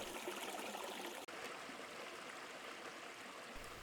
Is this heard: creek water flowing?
yes